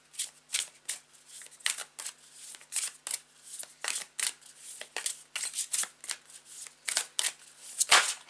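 An oracle card deck is shuffled close up in quick, irregular riffling bursts of crisp paper slaps, with short pauses between them.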